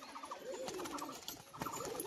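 A yellow-eyed male pigeon with a black border coos in soft, rolling repeated phrases, close by over a constant background hum with no one speaking.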